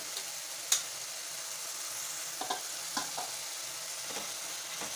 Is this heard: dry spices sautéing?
yes